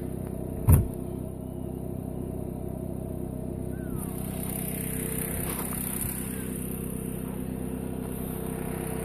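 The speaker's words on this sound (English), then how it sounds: "there's one of those black crickets we get out here" A black cricket chirps outdoors at a gold mining site, a steady high trill over a constant low engine rumble, with one sharp thump near the start.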